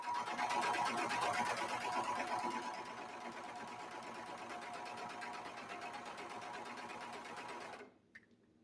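A sewing machine runs steadily, stitching down the underarm seam of a cozy sweatshirt, its rapid motor buzz loud and close before stopping abruptly near the end.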